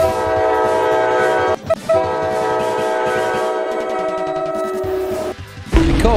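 A Roblox game train sounds a long, loud, sustained horn blast that pauses briefly and resumes, over steady rolling rumble, with a short break near the end before the horn returns.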